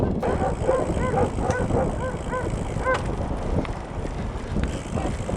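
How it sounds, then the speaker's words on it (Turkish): Several dogs bark repeatedly at a short distance outdoors in a village in Sakarya, Turkey, sharp yaps recurring over steady wind and road noise. "Köyde çok köpek varmış."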